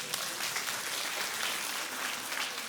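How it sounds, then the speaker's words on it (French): A comedy-show audience applauds a generous spectator, the clapping dense, even and continuous at moderate volume with no voice above it. "est-ce qu'on peut l'applaudir bien fort?"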